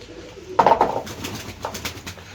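Homing pigeons on a rooftop terrace loft give a short burst of soft cooing and fluttering bird sounds, close and moderately loud, with no talking.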